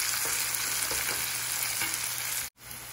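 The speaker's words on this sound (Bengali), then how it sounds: "এবার পেঁয়াজটা একটু ভাজা হতে থাক" Onions with garlic, turmeric, chili and spices frying in a pan, a continuous close crackling sizzle with faint stirring scrapes, ending in a sudden brief dropout as a lid goes on.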